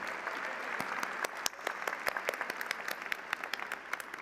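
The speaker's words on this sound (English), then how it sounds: "Once again, big round of applause" A commencement audience claps for Master of Science in Genomics graduates, with crisp individual claps standing out over a broad, moderate applause from a large hall crowd.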